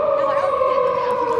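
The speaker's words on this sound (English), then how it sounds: "the siren is going, so I'm gonna try to end it here" An outdoor siren sounding as a steady, sustained wail that holds a fairly even pitch through the whole brief stretch and stays clear and prominent.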